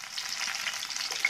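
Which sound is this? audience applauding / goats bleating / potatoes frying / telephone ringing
potatoes frying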